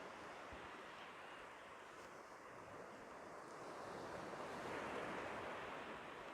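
Ocean surf breaks on a quiet beach at Manguinhos in Búzios, Brazil, in the very early morning, giving a faint, continuous wash of waves with light wind and gently swelling loudness, with no voices.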